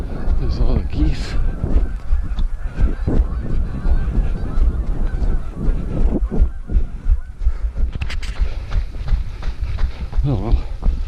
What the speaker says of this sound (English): There's all the geese.